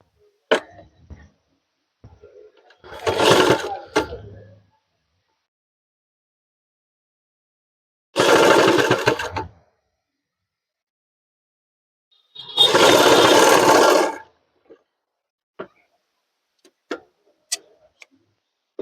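Sewing machine stitching the back pocket of a men's trouser, running in three short bursts of a few seconds each, separated by quiet pauses with faint clicks and handling noises.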